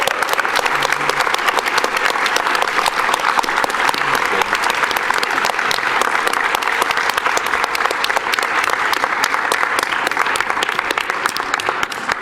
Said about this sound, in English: Can we get one more round of applause for Jadin?